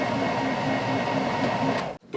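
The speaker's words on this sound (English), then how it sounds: "I'm going to use this oscillating belt sander to square up the edges" An oscillating belt sander squares up wood edges, giving a steady close whirring drone with a faint rhythmic pulse that cuts off abruptly near the end.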